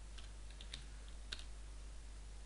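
A script name being typed on a computer keyboard: a few faint, scattered key clicks over a constant low hum, with no voices.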